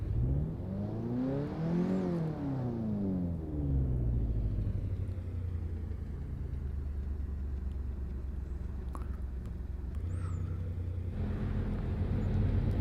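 A car engine revs in the Assetto Corsa racing game on semi-slick tires, climbing and falling through the revs toward a 6,000 RPM limit. It is a steady, grunty drone heard alone.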